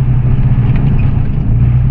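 Ford Raptor engine running steadily while the truck drives along, a loud, constant mid-pitched engine drone with faint clatter and no speech.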